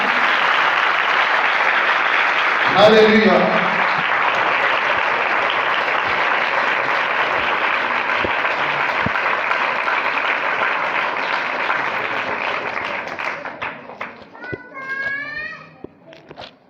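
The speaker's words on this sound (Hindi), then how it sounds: "जिंदा यीशु के लिए तालियां, जोरदार तालियां।" Loud, sustained applause from a congregation for Jesus fills the space, with a voice calling out briefly early on and a few other voices rising near the end as the clapping fades.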